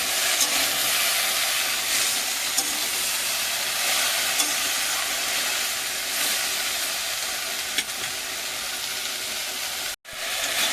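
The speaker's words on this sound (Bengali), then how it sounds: "কষিয়ে নেব।" Fish seasoned with salt and turmeric sautés in a pan, a constant dense hiss and sizzle filling the scene without pause, broken only by a brief dropout near the end.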